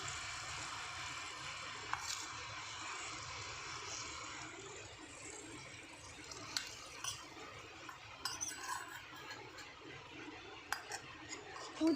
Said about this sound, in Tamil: இது நெய்யோடு சேர்த்து நம்ம இந்த பாயசத்துக்குள்ளே இதை ஊற்றிடலாம்.